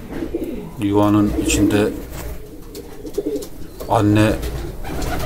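Homing pigeons coo at the nest in two clear bursts of throaty, rolling calls, close and loud, while someone speaks quietly in between.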